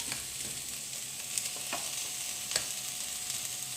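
Cooked rice gets mixed into fried vegetables for vegetable fried rice, giving a soft continuous sizzle with a few scattered scrapes and clinks of the spoon against the pan, close by and fairly quiet, no voices.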